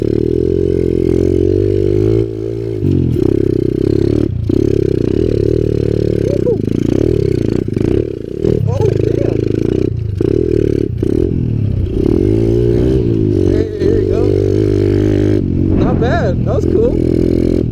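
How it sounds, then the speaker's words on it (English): Kawasaki KLX 110 pit bike climbing a steep hill, its small engine droning loud and steady with shifting revs throughout, close to the rider, with talk over the engine. "So let's go ahead and see how the KLX does against hills."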